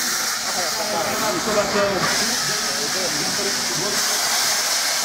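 A steam locomotive at a steam engine parade vents a loud, continuous hiss of steam, with a voice talking over it throughout.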